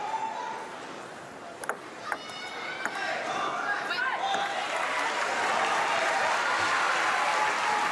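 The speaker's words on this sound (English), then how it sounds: "We're sure to hear enthusiastic crowd every time that happens." Enthusiastic applause and cheering swell from a crowd at a para table tennis wheelchair doubles match, building steadily and staying loud, with a few sharp bangs early on.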